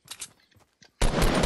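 Gunfire in Fortnite on PS4, a loud sustained burst of rapid shots arriving abruptly after a few faint earlier pops, the firing continuing steadily to the end.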